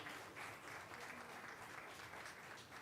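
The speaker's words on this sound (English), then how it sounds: "Give him a round of applause" A school board meeting audience applauds a retiring coach with faint, distant, steady clapping that lasts a few seconds without any speech.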